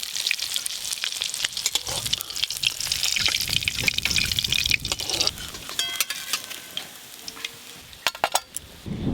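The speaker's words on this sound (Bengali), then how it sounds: "বাকি মাছগুলো আমি একই রকম ভাবে ভেজে নেব।" Pieces of a large katla fish fry in hot oil in a pan, making a loud, dense, continuous crackle and spatter with scattered sharp pops throughout.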